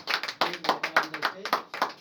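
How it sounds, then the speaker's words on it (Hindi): A crowd at a company achievers' celebration bursts into applause: uneven rhythmic clapping with sharp separate claps, fairly close, while voices talk over it. "जोरदार तालियां चाहूँगा"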